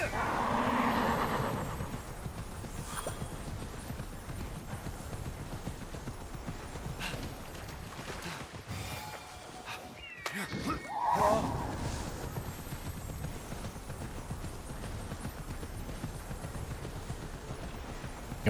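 Horse hooves gallop in the video game Immortals Fenyx Rising, a steady rapid clip-clop running throughout with brief louder swooshes and effects partway through, no talk.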